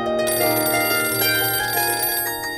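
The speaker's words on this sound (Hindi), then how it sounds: "न जाने कौन नालायक फोन कर करके मेरे अखबार का समय खराब कर रहा है।" A telephone rings steadily in a home, its bright, even tone held without a break for the whole stretch and sounding loud and close.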